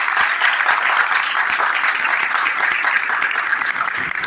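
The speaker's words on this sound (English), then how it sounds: "A big round of applause, please." Dense, steady applause from a business summit audience fills the whole stretch, loud and close with no pause, after a Chilean ambassador is introduced at a Chile–ASEAN event.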